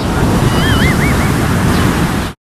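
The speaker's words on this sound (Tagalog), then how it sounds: "ngayon narito tayo sa dalampasigan na Garchitorena" Heavy surf rolls onto the beach at Garchitorena, Camarines Sur, a loud continuous roar of breaking waves with strong wind buffeting the microphone throughout.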